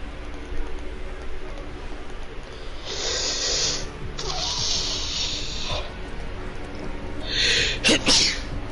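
Sneezes burst out close by amid quiet background noise, a few sharp bursts, the last pair quick and loud.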